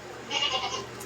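A goat bleats once, a wavering, nasal cry of about half a second, fairly quiet against a faint background hiss.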